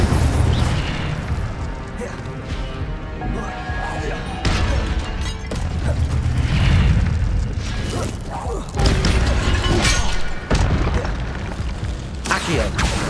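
Incendio fire spells cast in Hogwarts Legacy, bursting in a rapid series of whooshing booms and crackling blasts amid other spell effects, loud and busy throughout.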